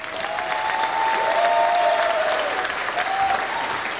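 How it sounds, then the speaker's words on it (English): An audience at a university graduation ceremony claps steadily and cheers for a nursing and social work diploma recipient, producing a dense, sustained wash of applause with a few whistles rising above it. "That's a very nice cheer"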